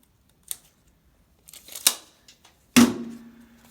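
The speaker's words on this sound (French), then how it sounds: "je vais me mettre un morceau de scotch ici" Adhesive tape is pulled and torn while marking a drill bit for drilling floor tile: a few sharp crinkling rips and snaps, the last one loudest, with quiet gaps between.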